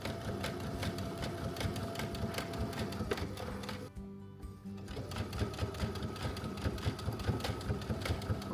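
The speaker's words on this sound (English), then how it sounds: "We're gonna find out when we sew it" A sewing machine stitches the seam of a tote bag, a rapid steady mechanical chatter heard up close, pausing briefly partway through before running on.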